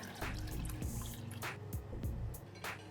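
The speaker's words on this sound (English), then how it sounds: "I'm pouring in the coconut milk" Freshly squeezed coconut milk poured into a pot of red bean soup on low heat, a soft trickling and dripping with small splashes, faint and close, no voices.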